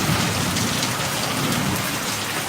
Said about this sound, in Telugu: ఉరుములు